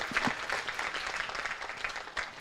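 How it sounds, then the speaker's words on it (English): Faint, moderately dense clapping from an audience at a spiritual talk, a brief patter of many hands heard at a distance and at low volume. "Give a big round of applause."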